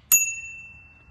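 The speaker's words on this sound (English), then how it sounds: "Has a bell." A single bicycle bell ding on a VoltBike Bravo electric bike, one bright close strike with a clear ringing tone that decays slowly over about a second.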